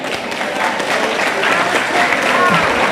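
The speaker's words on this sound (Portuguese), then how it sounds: "Pode aplaudir com força aí" Loud, sustained applause fills a church as a congregation claps hard during a sermon, dense and steady throughout, with some voices mixed into the crowd.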